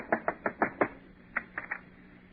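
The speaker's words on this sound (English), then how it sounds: "Go ahead, knock on the door." Door knocking as a radio comedy sound effect, a quick run of five sharp knocks followed by a softer group of three, close and alone.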